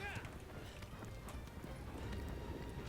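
A horse galloping in the video game Shadow of the Colossus, its steady hoofbeats running continuously at moderate loudness under a busy layer of game sound and a brief whinny-like tone at the start.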